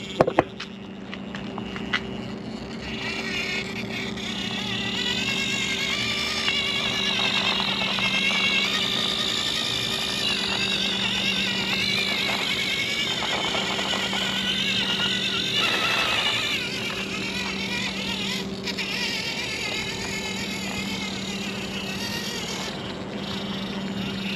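A 1/24 scale micro RC car with a spider chassis drives continuously, its small electric motor giving a steady high whine that rises and falls slightly with throttle, close by and with no talk.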